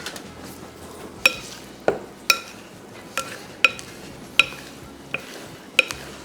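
A spoon stirs muhammara in a bowl in a kitchen after salt is added, sharp clinks against the dish landing about every half second over a soft scraping bed, close and alone.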